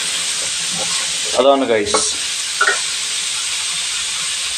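Crab masala ingredients sizzle steadily in hot coconut oil as they are stirred, a constant bright frying hiss with scraping stir strokes; a voice speaks briefly over it partway through.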